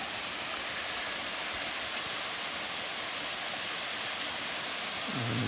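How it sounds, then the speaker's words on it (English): A waterfall at Nara Inlet in the Whitsundays gives a steady, dense rush of falling water, constant and fairly loud throughout, with a faint low sound creeping in at the very end. "we've both made it to the waterfall at Nara."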